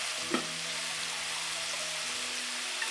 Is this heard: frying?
yes